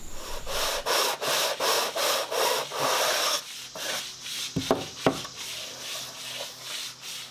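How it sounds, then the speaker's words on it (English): Rhythmic back-and-forth rasping of a sanding block on the wooden sides of a ukulele kit, steady strokes at first, then slower, with a few knocks near the end. "I'm trying not to tilt the sanding block as I go"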